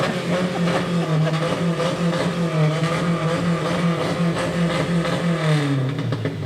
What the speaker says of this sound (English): I'm hearing the revving from the Hilux